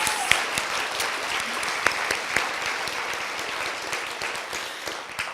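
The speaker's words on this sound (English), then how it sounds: "Let's give Mentha and all of the young people from BSU a big round of applause." A breakfast crowd gives young people a steady round of applause that holds throughout, with a few sharper claps standing out.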